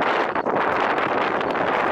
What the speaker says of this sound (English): Also at the top of the hill, so of course it's windy.